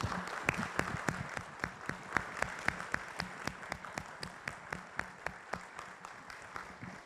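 An audience at a community meeting claps in a steady, even rhythm, with sharp beats repeating about four times a second and no talking over it.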